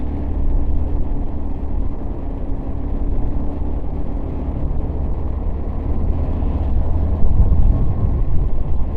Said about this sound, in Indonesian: Masih banyak bus.